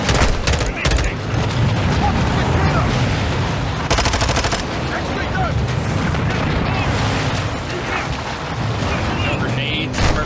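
Loud, dense gunfire and booming blasts from grenade explosions in the Modern Warfare 2 campaign mission "Dark Water", continuous across the whole stretch with sharp bursts layered together.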